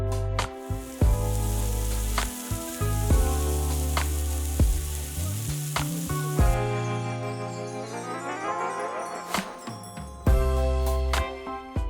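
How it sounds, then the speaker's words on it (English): Chicken grilling for a fettuccine Alfredo meal sizzles and fries steadily across the whole stretch, loud and close, with tonal music and sharp percussive hits layered over it. "So I want to go ahead and grill my chicken."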